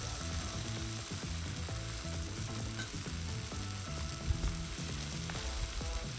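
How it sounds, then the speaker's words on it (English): Chicken fries on a Blackstone 22-inch griddle with a steady sizzle and continuous crackling hiss, close and even throughout, with a few brief clinks near the end. "kind of let them sizzle a little bit."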